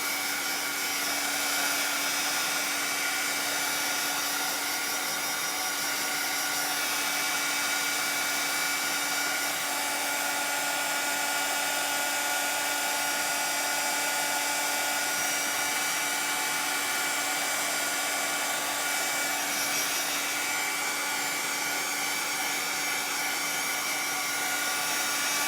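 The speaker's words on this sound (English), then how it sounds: "2 days in a row I actually had my heat gun ready to go." A heat gun drying paint on a sunflower door-hanger, blowing as a steady, loud, unbroken rush of air with a faint constant whine throughout.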